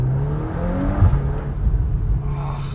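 A 2024 VW Golf 8 R engine hums and revs from inside the car, a low steady drone with rising and falling whine as the throttle is eased off.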